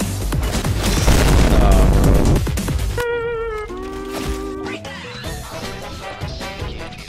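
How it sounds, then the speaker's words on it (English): Shotgun blasts from the Fortnite video game boom loudly in a dense burst of gunfire, followed by layered game effects and music-like tones. "I hit this man four times with the shotgun."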